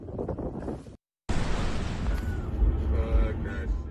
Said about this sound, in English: It was a massive explosion.